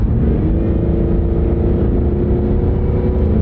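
A cheap used car with an automatic transmission is floored from about 40 mph to pass, its engine droning loudly and steadily throughout with no voices.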